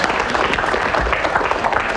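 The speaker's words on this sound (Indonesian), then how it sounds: "tepuk tangan buat Nina" A studio audience on a Sunday-night television talk show claps for a guest named Nina, a dense, steady patter of many hands filling the whole stretch at moderate loudness.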